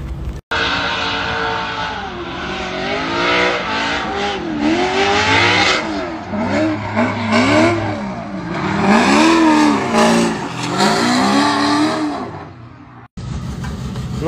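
A drift race car at an RDS Europe round accelerates hard, its engine climbing and falling through repeated loud, close revs across gear changes.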